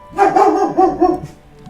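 Dogs bark in a short burst of several quick, loud, close woofs, then the sound drops away, with no talk.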